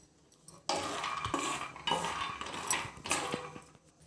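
Peanuts roasting in a pan are stirred with a metal spoon, producing close, loud bursts of rattling and scraping in about three strokes separated by short pauses.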